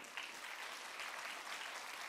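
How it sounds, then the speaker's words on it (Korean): Encouraging applause from a crowd at a winter youth camp church gathering, a continuous, fairly soft wash of many hands clapping at an even level with no voices standing out. "우리 친구들 한번 격려의 박수 한번 해주세요"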